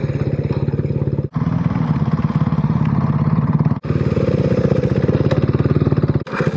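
Motorcycles running on a mountain road in the Dolomites, a loud close engine pulsing with a rapid rhythmic beat that briefly drops out twice between steady runs.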